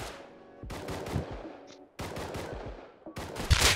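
Automatic gunfire in Rust near an offshore oil rig comes in three loud, close bursts of rapid shots, separated by short pauses with decaying echoes.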